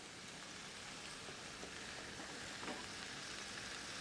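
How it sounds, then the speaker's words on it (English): Faint, steady sizzle of swordfish slices searing in a hot pan with vegetables, a soft even frying hiss throughout with no talk. "I'm just going to throw some of this swordfish in and seal it"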